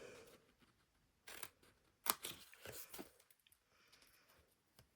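Small scissors snipping away little paper pieces for a Christmas tree treat box, a few quiet, sharp clips and crunches in short bursts separated by pauses, close up and faint.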